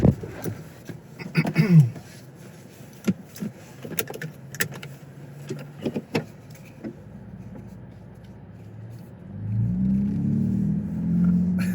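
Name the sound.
off-road SUV exhaust while accelerating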